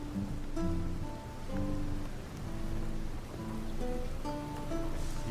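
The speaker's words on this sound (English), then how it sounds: "You walk outside. It's raining." Steady rain falls outdoors with a continuous wash of hissing patter that swells and eases in slow waves. Faint tonal background music plays beneath it.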